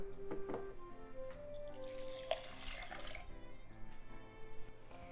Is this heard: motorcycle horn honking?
no